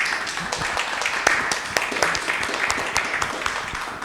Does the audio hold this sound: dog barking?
no